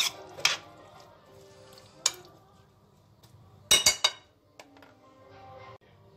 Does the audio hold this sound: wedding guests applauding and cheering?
no